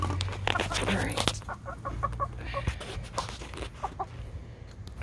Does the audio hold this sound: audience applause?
no